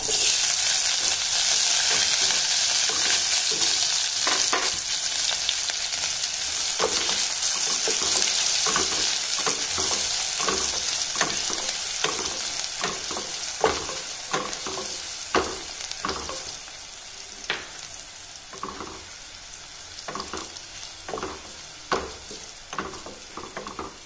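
Steady sizzling of onion frying in hot oil with a tempering of mustard seeds, cumin, green chili and garlic, continuous crackle with intermittent stirring clicks of a spoon against the pan, growing sparser toward the end.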